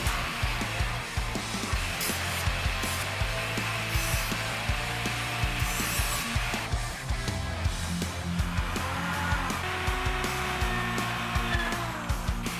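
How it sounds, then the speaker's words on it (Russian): An angle grinder cuts a steel bracket in a continuous high whine, its pitch dipping and rising as the disc bites, with short knocks and pauses throughout. "с помощью болгарки вырезал скобу, которую загнул в форме крючка"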